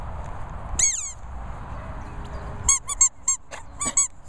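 A squeaky dog toy squeezed for a Sussex Spaniel gives one sharp, wavering squeak, then after a pause a quick run of five short, bright squeaks, close and loud over quiet room noise.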